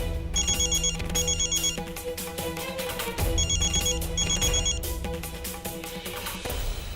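A phone ringtone plays loudly and steadily, with repeating bursts of bright electronic melody over a continuous musical background, lasting several seconds with no speech.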